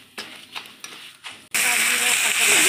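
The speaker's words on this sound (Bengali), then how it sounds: "ভেজে রাখা চালটা দিয়ে ভেজে নিচ্ছে" Pre-fried rice tipped into hot oil seasoned with cumin seeds and bay leaves: a few soft clinks and scrapes, then a sudden loud, steady sizzle that keeps hissing to the end.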